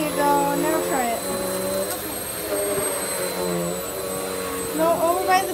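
A household vacuum cleaner being pushed by a young child near a blue chair runs steadily and fairly loud throughout, its motor whine shifting pitch as it moves, with an adult's voice talking over it.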